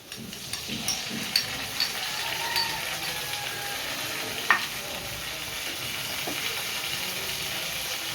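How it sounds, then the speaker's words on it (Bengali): Ground cumin, coriander, ginger and green chilli paste sizzles steadily in a hot pan, a continuous close frying hiss with a few soft scrape and stir clicks, no voices. "এবার জিরে, ধনে, আদা আর কাঁচা লঙ্কা একসাথে বাটা দিয়ে দিচ্ছি।"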